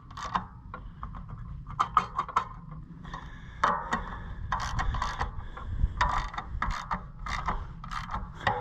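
Oliver 77 tractor with a corn picker: the picker mechanism and its fingers begin to move, giving a busy run of clanking, ratcheting and rattling metal over a low engine rumble, close and steady without speech.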